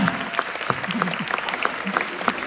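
Audience applause at the final curtain call of a Cantonese musical in a theatre, dense steady clapping from a crowd filling the whole stretch, fairly loud and close.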